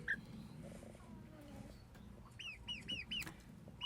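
A young chicken clucks faintly with soft low chatter, then gives a quick run of four or five higher chirping calls in a row, fairly distant and quiet.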